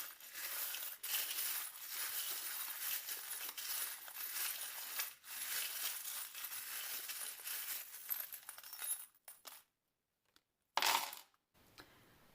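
Charms cast for a divination reading rattle and clink in a steady jingling wash with a few sharp knocks, then drop to near silence before one final brief clatter.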